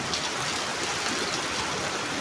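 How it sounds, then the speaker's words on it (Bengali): Heavy rain falls at night in a steady, dense hiss of drops on surfaces, close and continuous with no voices. "আজকে আমাদের এখানে বৃষ্টি হচ্ছে"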